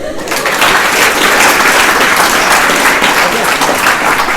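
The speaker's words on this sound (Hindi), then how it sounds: "सर के लिए तालियां हो जाए।" Loud, dense applause from a school audience honouring the principal, a steady wash of many hands clapping together close by for several seconds.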